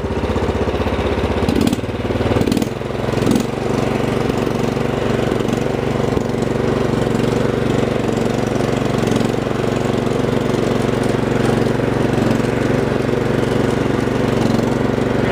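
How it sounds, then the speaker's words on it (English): A Craftsman R1000 riding lawn mower engine runs steadily and loud throughout, with a brief dip and surge in revs early on as the throttle is opened, then a constant drone. "I'll give it some gas here."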